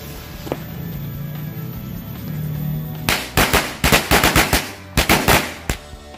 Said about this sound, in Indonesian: Selanjutnya kita cobain mercon korek Color Smoke Corsair warna biru.